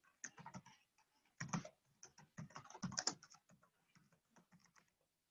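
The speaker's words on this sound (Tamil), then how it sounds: "அப்படின்னு டைப் பண்ணிக்கிறேன்." Typing on a computer keyboard while entering project details in Primavera P6 software, quick bursts of soft key clicks with brief pauses, close and fairly quiet, no talking.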